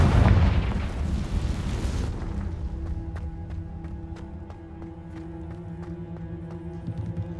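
In Hogwarts Legacy, a Confringo blasting spell erupts as a loud, rumbling explosion that fades over about two seconds into a quieter game ambience with faint ticks.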